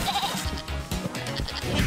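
A goat bleats in the co-op moving game Moving Out 2, a short wavering cry layered over busy game music and effects, with no talk.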